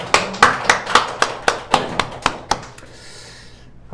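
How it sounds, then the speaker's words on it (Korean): A church congregation gives a round of rhythmic, unison hand claps during a Sunday worship service, about ten sharp even beats, loud and close, then fading into a soft room hush. "하나님께 영광의 박수 드리겠습니다."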